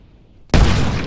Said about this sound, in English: causing a violent explosion, a so-called boiling liquid expanding vapor explosion, or BLEVE